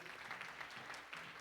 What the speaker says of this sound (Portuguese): Vem para cá sob os aplausos da igreja.